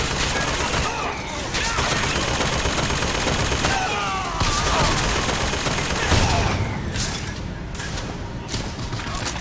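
Bioshock Infinite gunfire rattles in dense, loud automatic bursts with scattered single shots and thuds, continuing almost without pause, while a voice speaks over the combat.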